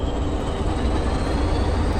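A Class 20 double-header diesel train in Train Simulator Classic, running from Doncaster toward Peterborough, getting underway with a continuous dense engine rumble and rolling rail noise, steady and close.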